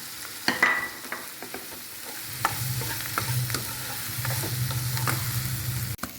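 Curry leaves and green chillies sauté in a pan with a crackling sizzle that grows steadier after the first couple of seconds, broken by utensil scrapes and a sharp knock at the end.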